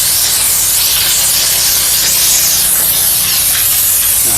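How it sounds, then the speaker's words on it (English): Continuous loud hiss of a steam cleaner jetting steam onto a car seat at close range, steady and unbroken with slight wavering. "So we're using steam."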